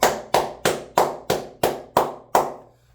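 Seven slow, evenly spaced hand claps, loud and close, each sharp smack ringing briefly before the next, with no talk over them.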